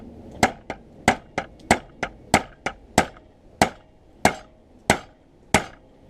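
A hammer tapping a center punch on a survival knife held loosely in a vise, about fourteen sharp metallic taps at a slightly irregular pace, close and clear with ringing decays and no talking.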